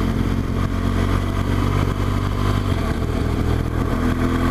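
Several motorcycles ride over Kirkstone Pass, passed from aboard a BMW R1200GS, their engines a steady, loud, close drone with wind rush throughout and no talk.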